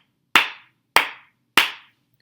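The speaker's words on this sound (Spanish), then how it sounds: "Tenemos las palmas fuertes, donde una palma golpea con los dedos de otra mano la otra palma" Three loud, sharp flamenco palmas fuertes, fingers of one hand striking the other palm, evenly spaced about half a second apart, each ringing briefly in a quiet room.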